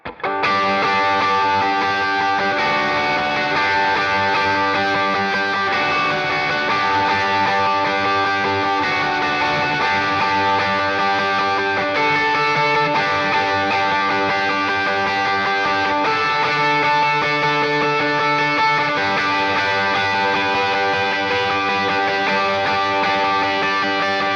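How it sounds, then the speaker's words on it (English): A distorted electric guitar plays a dense, sustained riff with heavy overdrive and a wash of reverb, loud and continuous throughout. "With effects, you definitely want some overdrive"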